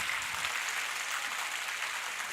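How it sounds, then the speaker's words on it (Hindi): A school audience at a culmination ceremony claps continuously, a steady wash of many hands throughout, moderately loud with no voices over it. "तो मेरे लिए पहले ताली बजाओ।"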